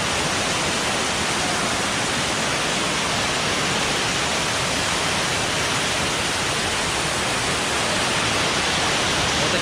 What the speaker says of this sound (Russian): Вот такие водопады, ребят.